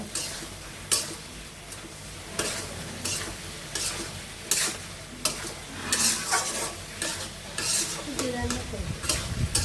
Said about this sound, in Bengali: মরিচের গুঁড়া তরকারি আর মশলাটা ভালো করে এখন কষিয়ে নেব